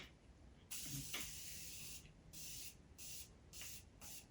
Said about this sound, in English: spray my face down with some setting mist